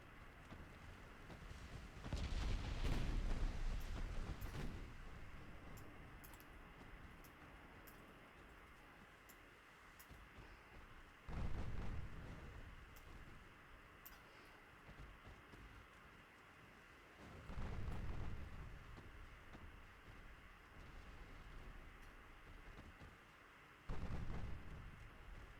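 Heavy cruiser 8-inch gun salvos in Ultimate Admiral Dreadnoughts, four deep booming blasts spaced several seconds apart, each rolling off into a low rumble over steady wind and sea noise.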